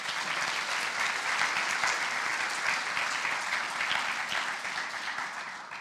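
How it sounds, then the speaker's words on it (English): An audience at a school community awards ceremony for graduating seniors applauds steadily, dense clapping from many hands that holds for several seconds before tapering slightly. "Let's give them a round of applause."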